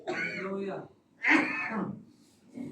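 A man, a pastor preaching, clears his throat and coughs twice, close and fairly loud, with a short pause between the bursts and a faint trailing sound after.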